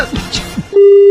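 A steady telephone busy tone sounds loudly just after a call is hung up, following a moment of quick speech on a radio show.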